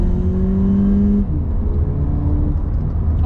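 A VW Polo GTI engine holds a high, loud rev for about a second, then drops back and settles into a rumbling idle, close and with no talk.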